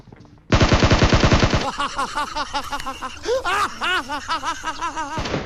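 Rapid automatic fire from a SCAR rifle in a mobile battle-royale shooter, a dense burst of loud, tightly spaced shots lasting about a second, followed by a string of bouncy chirping game sounds and effects.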